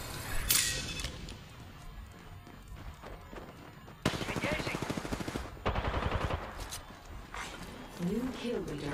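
Rapid automatic gunfire in a video game comes in bursts of rattling shots from close range, with quieter single shots earlier and a player's voice talking in places.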